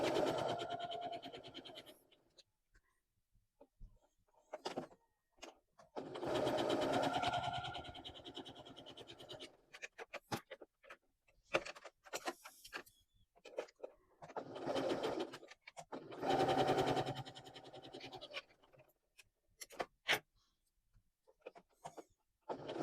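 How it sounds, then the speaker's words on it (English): Sewing machine stitching down a folded fabric lanyard, bursts of steady mechanical running separated by short pauses, close and fairly loud with no talk. "And we're going to sew down here and down here,"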